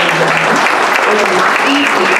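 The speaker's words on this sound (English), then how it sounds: "So please give everyone a round of applause." An audience at a presentation from fellows for racial equity and leadership development bursts into loud, sustained applause, dense clapping with a few voices mixed in beneath.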